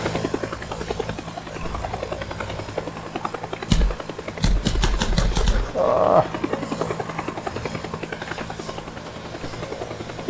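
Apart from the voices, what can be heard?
helicopter rising, from a video game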